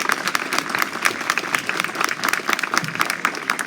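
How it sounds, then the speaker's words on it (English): A crowd at an outdoor street renaming ceremony claps steadily throughout, a dense, moderately loud round of applause with no pauses. "Let's give them all a round of applause."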